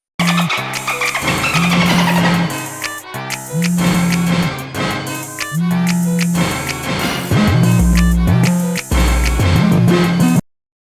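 A K-pop boy group song with a driving beat, synth layers and strong bass plays loudly and continuously, with brief breaks between sections.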